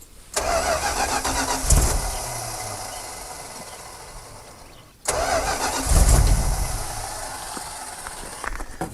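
An abandoned Dodge Power Wagon service truck with no fuel, its engine cranking over in two long starter bursts with a rhythmic churning whir that fades, stops, then starts again.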